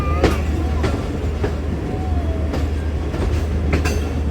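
Awam Express passenger train at Gujranwala station, heard as a steady low rumble of rolling carriages with periodic clacking wheel beats and a faint squeal, a busy platform atmosphere close by.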